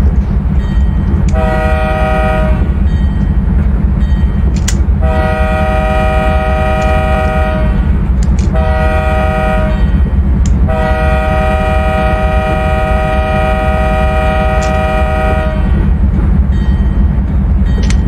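A loud train horn blows for a crossing in several long blasts with short gaps, over a heavy rumbling of rolling rail cars, in an Open Rails train simulator.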